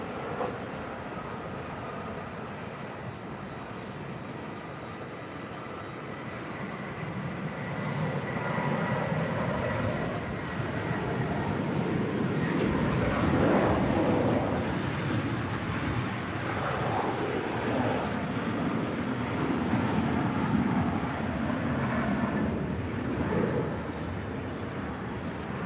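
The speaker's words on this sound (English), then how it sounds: "That is Cargo Lux flight 6682 departing to Luxembourg on a 747-8" Cargolux Boeing 747-8 cargo jet taking off from Los Angeles airport, a steady distant jet roar that swells gradually and holds as a broad rumbling wash.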